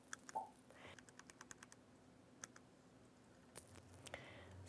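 Computer mouse clicks while making a quilt pattern in design software, a series of quiet, close, sharp ticks spaced irregularly across a few seconds, with no talk.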